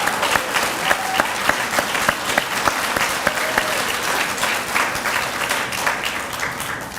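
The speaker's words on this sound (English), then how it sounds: "can we give the graduates a round of applause for their dedication?" An audience at a law enforcement training graduation ceremony claps in a steady round of applause, with a few sharper individual claps standing out near the front, fading slightly toward the end.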